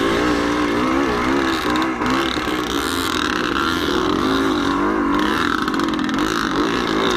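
Vintage motorcycles, 50-plus class AHRMA machines, race on a muddy dirt trail at Little Beaver Raceway in Lisbon, Ohio, engines revving loud and close with rising and falling pitch as they accelerate, no talk.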